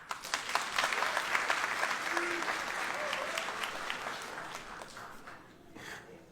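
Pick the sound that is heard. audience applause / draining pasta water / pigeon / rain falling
audience applause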